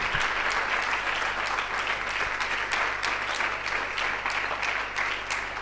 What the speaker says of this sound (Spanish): Denle un aplauso al Señor si lo cree.